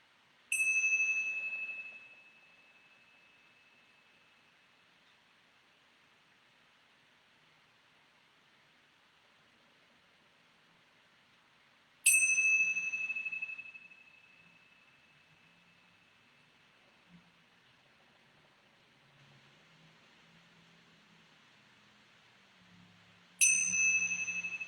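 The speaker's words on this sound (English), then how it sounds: "I'm going to ring these bells 3 times." Bells struck three times at roughly twelve-second intervals during a yoga session, each a bright clear ring that sustains and slowly fades into near silence before the next.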